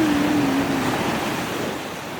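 Sea waves wash onto the shore at night, a steady broadband rush of surf with wind noise, fairly loud and close.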